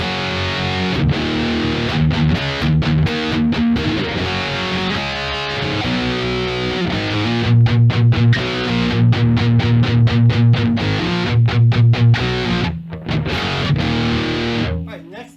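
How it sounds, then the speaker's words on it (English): Overdriven electric guitar in an 80s hard rock tone through a BOSS eBand JS-10, playing loud chugging power chords and riffs with short stops and palm-muted bursts, continuous and up front with no talking. "So we're going to have an overdrive distortion."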